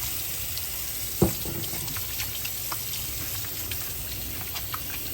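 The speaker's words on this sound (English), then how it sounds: "So I'm gonna wash my hands." Tap water runs steadily into a kitchen sink while hands are washed, a continuous hissing splash with a single sharp knock early on and small clinks throughout.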